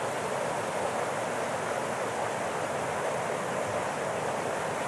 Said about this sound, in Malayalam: ഡാം തുറന്ന നേരം അവിടുന്ന് വെള്ളം വരികയാണ്